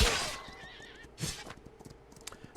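Horses in the strategy game Humankind give a loud, close whinny, then a second shorter neigh, with soft clip-clop hoofbeats continuing underneath.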